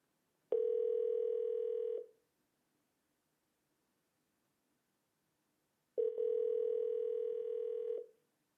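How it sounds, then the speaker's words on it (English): Outgoing phone call placed through an Amazon Echo smart speaker produces two long ringback tones, each about one and a half seconds, separated by a long silent pause, clean and steady with no talk. "It'll start ringing."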